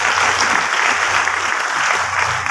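Loud, sustained applause from a large audience at a celebration speech event, a dense wash of clapping filling the whole stretch without a break.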